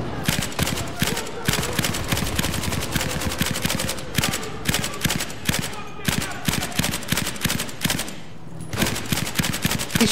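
Rapid bursts of suppressed light machine gun fire from a video game, dense repeated rattling shots that pause briefly near the end before resuming, loud and close throughout.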